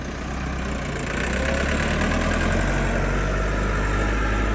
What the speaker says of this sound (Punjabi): 2025 ਮਾਡਲ ਟਰੈਕਟਰ ਹੈ।